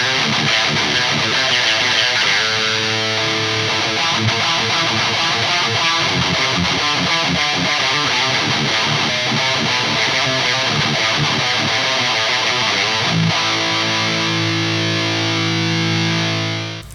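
A B.C. Rich Shredzilla 7 Prophecy seven-string electric guitar plays through a Neural DSP Soldano SLO-100 amp plugin, producing heavily distorted, sustained riffs with chugging chords, loud and continuous for about seventeen seconds before ringing out.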